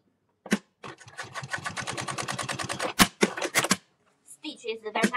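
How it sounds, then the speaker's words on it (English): A JK-58420J lockstitch sewing machine runs a straight stitch, giving a fast, even rhythmic clatter followed by a few sharp mechanical clicks as it trims. A voice speaks briefly near the end. "We see this? This is the straight sewing."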